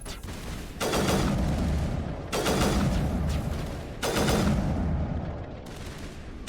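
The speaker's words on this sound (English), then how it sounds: "Someone's shooting at me." Gunfire in the video game Mass Effect: Legendary Edition: four heavy bursts of rapid shots, each lasting about a second, loud and close, separated by short lulls with no talking.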